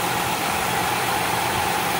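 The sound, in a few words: Ford Escape V6 engine running with misfire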